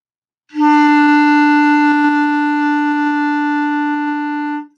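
A single clarinet note, E, held steady for about four seconds, clear and close, with a rich reedy tone and no other sounds.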